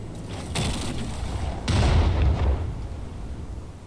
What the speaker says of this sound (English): Maybe just one set of rockets?